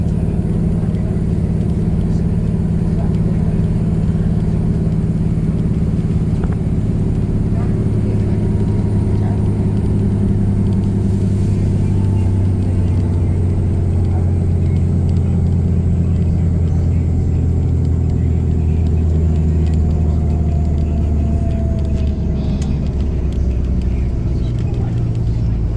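A bus rides along a road near Folsom Dam on the way to the CIM marathon start. A steady, loud engine drone and road rumble come from inside the cabin, with a low shifting engine tone and no clear talk.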